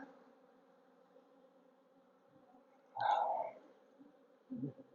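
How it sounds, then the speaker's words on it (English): Honey bees hum in a low, steady drone from an opened hive during an inspection, with a brief louder buzz as one passes close and a quiet voice near the end. "We have so many bees."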